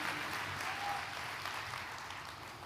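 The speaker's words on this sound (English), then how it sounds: "Let's get a quick round of applause for the Thinker crew who mocked up all these videos" An audience applauds steadily for a crew who made images and videos for an annual event, a dense, even wash of clapping throughout.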